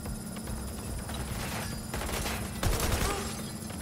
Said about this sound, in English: Ooh, this does damage. It's a gun.